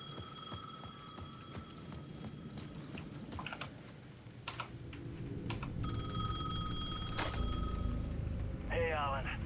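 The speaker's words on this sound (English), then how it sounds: "The payphone at the edge of the plaza was ringing again." Payphone ringing in the video game Alan Wake 2, bright electronic ring bursts rising out of a murky ambient bed with clicks and scattered noises, becoming louder and more insistent toward the end while a voice talks faintly.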